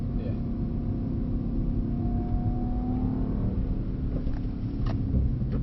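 Mercedes E63 AMG engine on a skid pan, a low steady rumble with a rising engine note as it accelerates, heard close under the car's interior hum.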